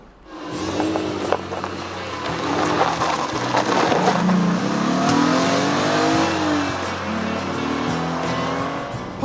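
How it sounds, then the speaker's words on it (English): A car's V6 engine bellows as the throttle is floored, a loud close rising roar that climbs in pitch through the revs and holds steady, with no talk over it. "bury that long travel throttle and all of a sudden you hear the V6 bellow"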